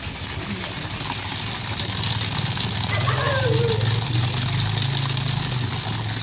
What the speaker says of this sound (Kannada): ನೀರು ತುಂಬಿ ಅಷ್ಟು ಬೀಳ್ತಾ ಇದೆ ಬಂದ್ ಮಾಡಿ ನಾನು ಮೋಟ್ರ್